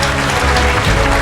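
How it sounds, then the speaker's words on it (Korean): A congregation at a missionary church conference in London welcomes a pastor with loud, sustained applause. The dense clapping continues unbroken throughout. "우리 목사님 박수로, 큰 박수로 모시겠습니다"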